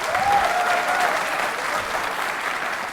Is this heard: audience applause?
yes